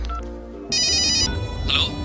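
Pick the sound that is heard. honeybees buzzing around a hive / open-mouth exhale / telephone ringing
telephone ringing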